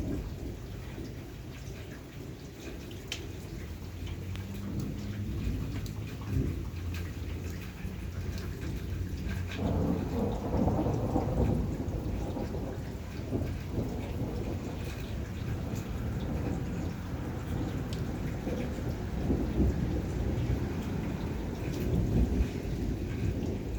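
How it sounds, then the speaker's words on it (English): An evening thunderstorm with steady rain and deep rolling thunder that swells partway through, the low rumbles heavy and continuous under the constant hiss of the downpour. "Hope you guys are hearing the thunder."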